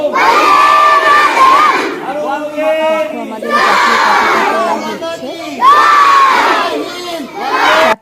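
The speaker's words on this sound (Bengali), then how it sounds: "তারা ন্যাশনাল ফ্ল্যাগ হাতে নিয়ে স্লোগান দিচ্ছে" Students waving national flags shout slogans in unison at an Independence Day flag hoisting, a loud, close crowd of young voices rising in repeated bursts of chanting and cheering.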